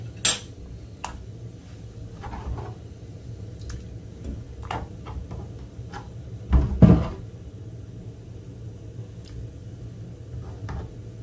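Potatoes dropped into a pot of salted water on a home kitchen stove, a brief clattering splash and knock of pot and utensils in the middle of sparse quiet kitchen ticks and clinks.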